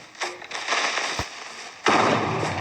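A Minecraft creeper explodes in the game, a sharp bursting blast followed by a loud crackling rush of debris.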